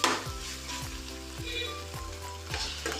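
Finely chopped tomatoes fry for a chicken curry, giving a steady close sizzle and crackle from the hot pan with regular soft stirring thumps and no talking.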